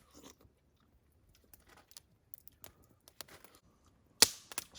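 Faint, intermittent crunching and chewing while eating a camp meal with a spoon on a solo overnight camping trip in the mountains, ending in a sharp louder click.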